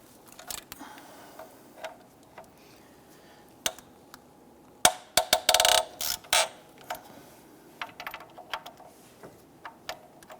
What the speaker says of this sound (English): Using our 14mm socket, we want to go ahead and just break these bolts free.